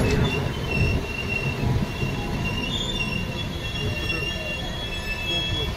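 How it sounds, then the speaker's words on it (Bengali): Jan Shatabdi Express on the Bhubaneswar–Howrah run pulling into Soro station in Odisha, with loud, sustained metallic wheel squeal over rolling rumble and light clatter, heard close from aboard the train. "ট্রেন এসে পৌঁছেছে সোরো স্টেশন।"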